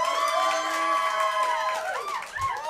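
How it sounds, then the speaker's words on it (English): Audience at a Weedy Wednesdays comedy show hooting and hollering in a vote, a loud, dense crowd roar of overlapping shouts and whoops sustained throughout. "Now, hoot and holler, everybody."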